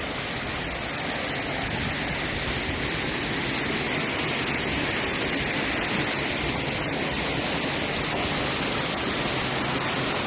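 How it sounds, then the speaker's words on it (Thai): A waterfall at the Thai temple Wat Sala Loi produces a continuous, even rush of falling water, loud and close, with no pauses and no voices. "มีน้ำตกครับตรงนี้"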